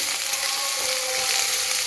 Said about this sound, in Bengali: এইগুলো একটু ভাজা ভাজা আগে করে নেব, তারপর পেঁয়াজ শাক দেবো